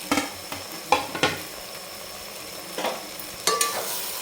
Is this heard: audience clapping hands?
no